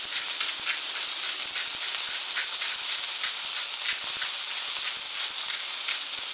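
Burgers and onions searing and steaming on a Camp Chef FTG600 flat top grill in record cold of -23F, giving a steady, loud, broadband sizzle and hiss with scattered crackles and pops throughout, no talking.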